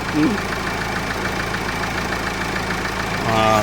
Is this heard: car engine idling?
yes